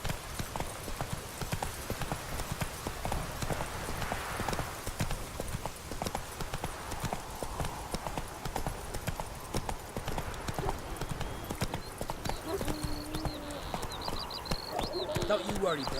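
Horse hooves clip-clop steadily in The Witcher 3 as a rider travels near Novigrad, a continuous rhythmic trot throughout with game voices and ambient sounds over it.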